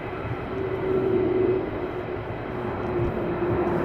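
Fighter jets pass overhead at RAF Lakenheath, a continuous roaring jet rumble with a faint tonal whine that swells slightly, then holds steady.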